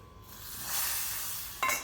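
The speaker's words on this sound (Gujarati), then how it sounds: "અને આ વઘાર આપણે સંભાર પર કરીશું." Hot tempering poured onto sambar bursts into a loud, bright sizzle that swells and holds, then a sharp clatter near the end, likely a lid set on the pot; no one speaks.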